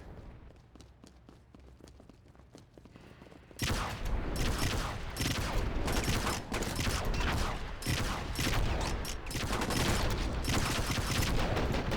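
Sniper and other gunfire in the PC video game Enter The Matrix, starting as quieter sharp shots and then jumping into a loud, continuous barrage of rapid firing for the rest of the stretch.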